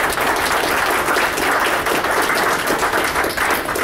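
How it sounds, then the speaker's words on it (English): At a general members' meeting, an audience gives a speaker a big round of applause, dense steady clapping close and loud that fills the whole few seconds without pause. "Give her a big round of applause, guys."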